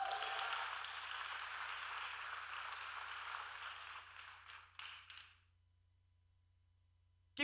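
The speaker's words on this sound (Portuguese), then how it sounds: "Aplauda mais uma vez o nome santo do Senhor." A church congregation applauds in a sustained, dense wash of clapping that fades out after about five seconds into near silence, ending with a sudden brief thump.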